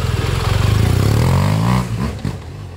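A BMW R1200 motorcycle passes close by on a street, its loud pulsing boxer engine rising in pitch then dropping and fading as it moves away.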